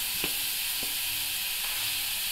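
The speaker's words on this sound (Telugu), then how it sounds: "కరివేపాకు అలాగే ఉల్లిపాయ ముక్కలు వేసుకొని బాగా ఫ్రై అవ్వాలి." Curry leaves and chopped onion softly frying in a pan, a low even hiss with a few light taps from a spoon, fairly quiet and without voices.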